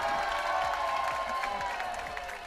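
Audience applause at a town talent show final, the crowd clapping steadily and at moderate distance, a sustained wash of hand claps with faint cheering that tapers slightly toward the end.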